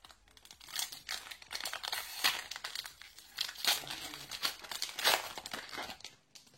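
Crisp crinkling and tearing of a Yu-Gi-Oh! Code of the Duelist booster pack's foil wrapper, close and steady, with rapid crackles and rips running through the whole stretch and no voices.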